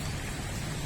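Heavy rain in a rainforest, a dense, steady hiss of downpour on leaves and surfaces that fills the whole moment, loud and continuous with no voices.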